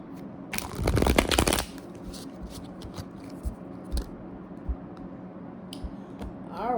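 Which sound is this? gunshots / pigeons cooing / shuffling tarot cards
shuffling tarot cards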